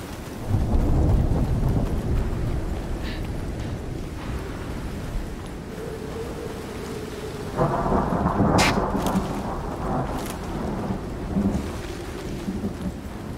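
Thunderstorm in the survival video game Icarus: steady heavy rain with deep rolling thunder, a loud crack and rumble midway, close and continuous with no talk.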